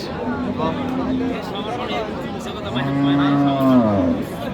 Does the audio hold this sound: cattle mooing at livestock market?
yes